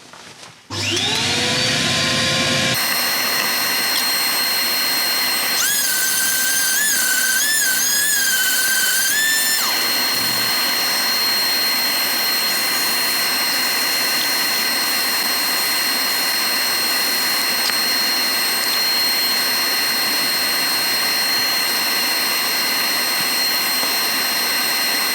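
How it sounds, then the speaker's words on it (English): A lathe spins a wooden egg while sandpaper is held against it, making a loud, continuous high whine and rushing hiss that runs steadily throughout after a rising start-up, with a brief warbling passage early on. "Right, we've got it sanded."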